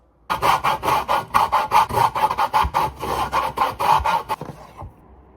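A blood orange is zested on a metal grater, giving a loud, close series of quick rhythmic rasping strokes, about a dozen in a row, before the scraping stops abruptly.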